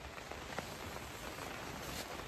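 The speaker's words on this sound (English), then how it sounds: "It's raining." Steady rain patters on the fabric of a large hot tent in the morning, a constant dense hiss of drops with faint scattered taps, heard from inside with no talking.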